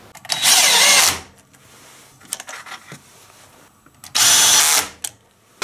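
A power drill drives screws through a sleeve attachment slid over the bit, in two short loud bursts of whirring with quiet handling clicks and taps between them, close by and with no talk.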